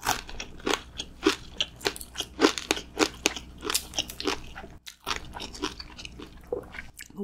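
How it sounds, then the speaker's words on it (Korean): Crunchy bites and chewing of a giant fried seaweed roll (gimmari) eaten alongside cheese tteokbokki, with loud close crackling crunches in a steady rhythm, each bite followed by chewing and no talk. "대왕 김말이 처음 먹어봐요."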